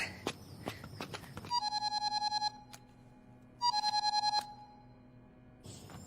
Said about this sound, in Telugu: బ్రదర్ ఫోన్ అందుకో